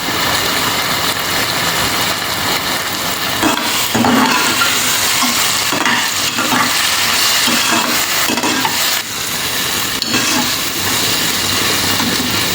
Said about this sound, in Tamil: இப்போ லேசாக வெங்காயம் வதங்கினாலும் நம்ம இஞ்சி பூண்டு பேஸ்ட்டு போட்டுடலாம்.